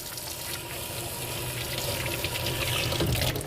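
Tap water running into a sink while hands are washed with soap, a continuous splashing hiss that grows slightly louder, close and alone without talk.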